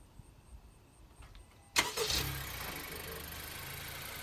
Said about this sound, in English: this car has a remote start